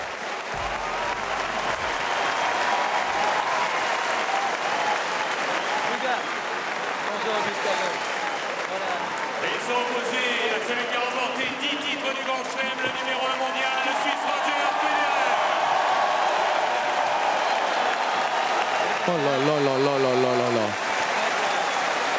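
Crowd at the 2007 Roland-Garros men's final between Nadal and Federer applauding and cheering loudly and continuously, with a voice talking over the sustained ovation and some whoops rising from the stands.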